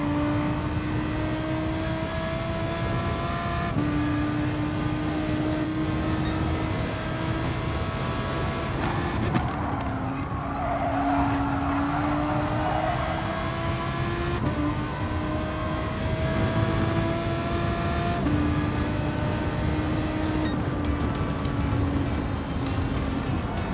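Gr.3 race cars in a GT Sport daily race video game: a steady, continuous engine drone with gradually rising pitch, and several cars lapping without pause.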